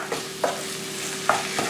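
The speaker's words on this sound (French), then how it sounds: "je laisse cuire ma viande hachée tout en mélangeant de temps en temps" Minced meat with parsley and coriander fries in a pan for a kebbeh filling, a soft steady sizzle broken by a few scraping stirs of the spoon, close and alone.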